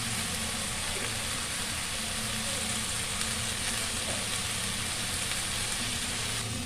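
Vegetables with salt, turmeric and cumin sauté in a pan, giving a continuous, even sizzle and crackle that holds steady throughout without any talking.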